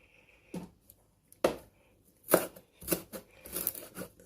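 Knife chopping fresh coriander on a cutting board for a northern Thai pickled mustard green salad, a handful of crisp close taps, sparse at first and then quicker.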